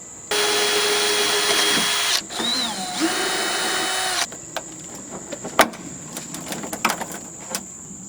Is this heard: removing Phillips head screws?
yes